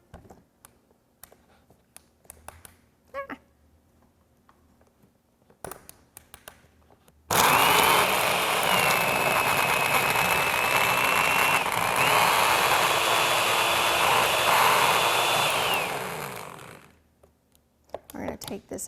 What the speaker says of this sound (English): Then I'm gonna put my blender top on, and we are going to blend this together.